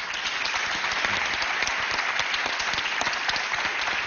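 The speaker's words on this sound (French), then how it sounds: "on l'applaudit." A TV game show studio audience on France 2 applauding, a dense, even burst of many hands clapping at once, loud and sustained without pause.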